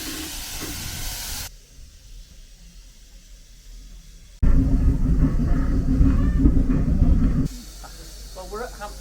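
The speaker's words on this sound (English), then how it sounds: "Well, you seem to be steaming at the moment, Joe." A steam locomotive on the Severn Valley Railway near Hampton Loade gives off loud hissing steam in bursts over a low rumble, broken by quieter stretches, with no talking.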